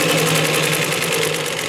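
A Singer 112W115 double-needle, needle-feed industrial sewing machine runs steadily at speed, close and loud, with a fast even mechanical chatter and motor hum throughout.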